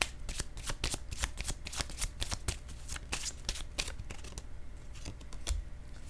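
Tarot cards shuffled and drawn close up, a dense run of crisp riffling snaps and flicks that eases into scattered card taps near the end, with no voices.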